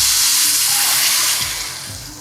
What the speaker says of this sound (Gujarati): આપણે પહેલાં એક બાઉલ ખાંડ એડ કરશું અને ખાંડને ડૂબે એટલું આપણે પાણી એડ કરશું